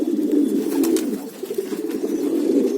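Long distance racing pigeon cooing close by in a low, throaty, continuous warble with rhythmic pulses, loud and alone without talk.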